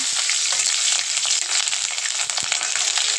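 Green chillies frying in hot oil with chopped garlic, a dense, steady hiss of sizzling oil, loud and close, with faint stirring clicks and no talking.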